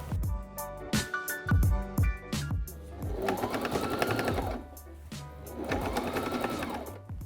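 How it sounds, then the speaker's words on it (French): A domestic sewing machine runs in two long steady bursts of rapid stitching while sewing all around the edge of a lined baby's jacket, with short clicks and handling noises between the runs. "puis je vais piquer tout le pourtour"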